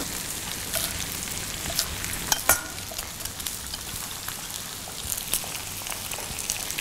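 Smashed garlic cloves and chopped spring onion stalks frying in a hot pan, a steady close crackling sizzle with a few sharper pops and stirring clicks, no voices.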